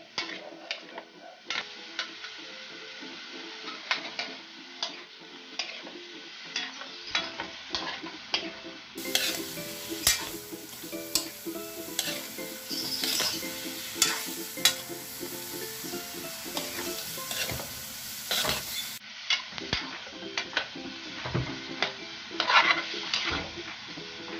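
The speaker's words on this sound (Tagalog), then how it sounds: "Gisagisahin natin siya ng konti." Pancit bato noodles sizzle and crackle in a pan while being sautéed, with scattered stirring clicks and scrapes, steady and close, with no talking.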